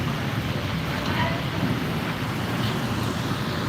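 Steady heavy rain roars continuously with a broad, even hiss and low rumble, no pauses, filling the whole scene.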